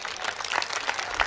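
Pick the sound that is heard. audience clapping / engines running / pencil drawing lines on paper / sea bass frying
audience clapping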